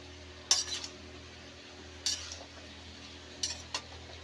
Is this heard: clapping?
no